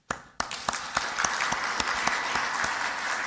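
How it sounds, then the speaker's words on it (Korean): An audience at a church leaders' retreat lecture bursts into applause, a sharp clap or two leading into steady, dense clapping that stays close and even throughout. "박수 한번 칩시다."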